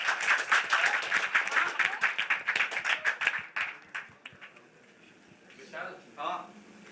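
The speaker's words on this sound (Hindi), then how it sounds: "जोरदार तालियां हो जाए इनके लिए" Applause and clapping from an audience at the grand launch event of a TV series, loud and dense for about four seconds, then thinning out and fading, with voices rising faintly near the end.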